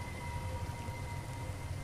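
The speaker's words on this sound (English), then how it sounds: "Yeah, it's raining blood." Rain of blood pours down in the dark-forest video game Banish as a steady, dense hiss with a low rumble beneath, continuous and even throughout.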